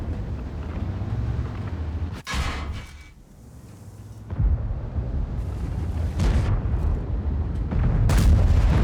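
Tank cannon shots and rumbling engine noise in a tank battle game featuring a Type 5 Heavy, with a sharp blast followed by a drop-off, then further booming hits over a continuous low drone.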